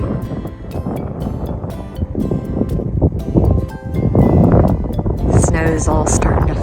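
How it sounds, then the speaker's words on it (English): Cold wind gusts outdoors on a snowy day, a steady loud roar buffeting close against the microphone throughout while a person speaks over it. "that wind is really cold"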